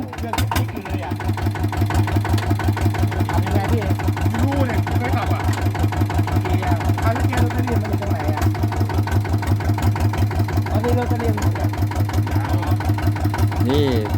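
A single-cylinder farm tiller engine for rice paddy work runs close by with a rapid, even thumping chug that settles into a steady loud rhythm after a brief start.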